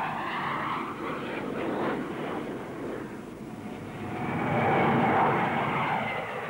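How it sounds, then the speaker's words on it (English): A de Havilland DH-125 small transport jet with twin rear-mounted engines roars past at an air show, a broad rushing engine noise that swells louder toward the end, steady and fairly close. "the DH-125. A small transport aircraft with twin rear-mounted jet engines."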